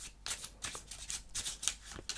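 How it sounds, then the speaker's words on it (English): A deck of playing cards is shuffled close up in a quiet room, a series of crisp riffling bursts repeating about every half second, soft and intimate. "I will indeed shuffle this deck"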